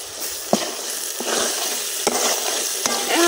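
Spice paste frying in oil in a pot on a clay village stove, with a steady broadband sizzle and several sharp stirring scrapes and clinks from a utensil, close and fairly loud.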